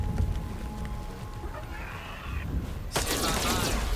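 Gunfire from the Overwatch ability in the video game Miasma Chronicles: a sudden, loud, broad blast about three seconds in that rings on to the end, after a stretch of quieter game ambience.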